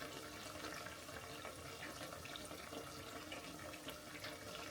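Beignet dough bubbles and sizzles in hot frying oil, a faint steady hiss with fine crackling that carries on without pause.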